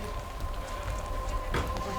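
Steady rain falls at an outdoor festival, a continuous broadband patter at moderate level with a faint hum beneath and a brief louder splash near the end, with no talking.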